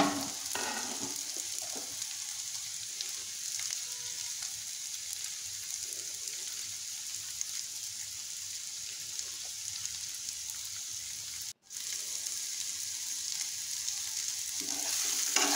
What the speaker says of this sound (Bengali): এখন ঢাকনা লাগিয়ে আরও কিছুক্ষণ রান্না করব যাতে আলুটা সিদ্ধ হয়ে যায় আর ভাজা হয়ে যায়।